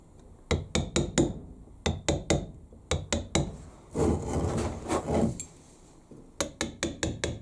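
A hammer lightly taps a chisel into stone while carving a house sign, making sharp, close knocks in quick bursts of three to five. A rougher scraping passage sits between the bursts.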